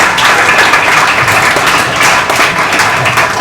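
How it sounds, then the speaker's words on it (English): Loud, close applause from an audience at a foundation day celebration, dense clapping that swells and dips slightly in waves without stopping. "A big round of applause."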